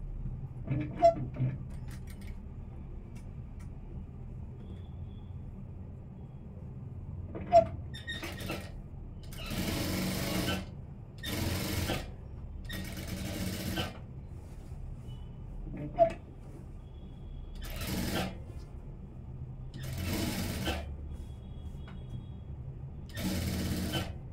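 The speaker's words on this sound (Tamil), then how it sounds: "இப்போ மேலே ஓரமாக தையல் போட்டுடலாம்" A sewing machine runs along the top edge of a churidar seam in several bursts of fast stitching of varying length, with scattered light clicks and handling noises between them; no one speaks.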